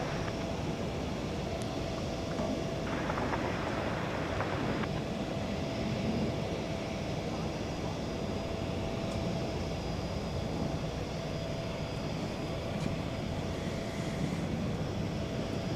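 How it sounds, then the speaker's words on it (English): A jet airliner spooling up for takeoff at DFW Airport at night, a distant steady roar and rumble spanning the whole stretch with a faint tonal whine over it and no voices. "Looks like we're going to get a takeoff over here on this side of the airport."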